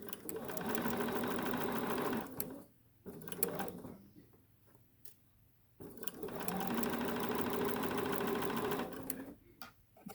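A sewing machine stitches half square triangle quilt pieces together in two long, fast, steady runs, broken by a quiet pause with small clicks and handling noises before it starts again.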